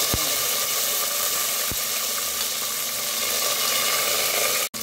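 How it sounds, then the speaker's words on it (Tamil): Sliced garlic frying in hot oil with mustard seeds and urad dal gives a steady, dense sizzle, with a couple of faint knocks, for an onion-free side dish for idli and dosa. "இப்போ பூண்டை அதுக்குள்ள போட்டுக்கலாம்."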